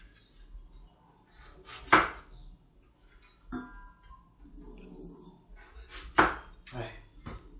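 A kitchen knife chops vegetables for a home-cooked stir-fry, giving a few sparse, uneven knocks on a board with soft clatter between them, close and fairly faint.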